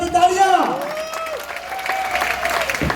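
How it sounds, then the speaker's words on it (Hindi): Audience applause at a leadership development program recognition event, a moderate clatter of clapping running beneath a voice that carries on talking over it. "तालियां हो जानी चाहिए आप सबकी, तालियां"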